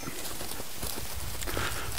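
A horse trotting on a lunge line, its hoofbeats a steady, even clip-clop rhythm on soft ground, moderately close against a noisy outdoor background with no talk.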